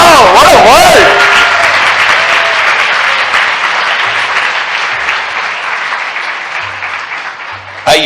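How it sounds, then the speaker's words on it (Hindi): A congregation applauds at a Hindi Christian sermon, a dense, sustained wash of many hands clapping for about eight seconds that eases slightly toward the end, with a brief tonal sound at the start. "आइए इस वचन के लिए ताली बजाएं।"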